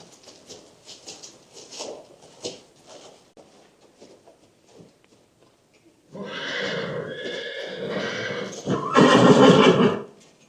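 Horses in a round pen, with soft hoof steps and shuffling early on, then loud, close, drawn-out neighing and whinnying calls repeated toward the end.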